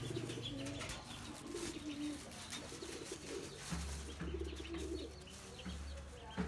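Albino doves cooing in a cage, soft repeated low coos in a steady rhythm that carries on throughout, with faint chirps and a little background noise.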